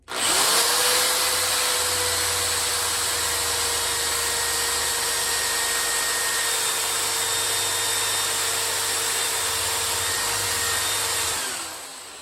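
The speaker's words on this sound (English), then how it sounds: "So what I'm gonna do now is I'm gonna go ahead and drill this hole." A power drill boring a hole for a handmade songbird whistle whines steadily at close range for about eleven seconds, then spins down and stops.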